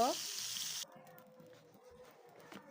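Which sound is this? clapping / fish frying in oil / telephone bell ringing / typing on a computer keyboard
fish frying in oil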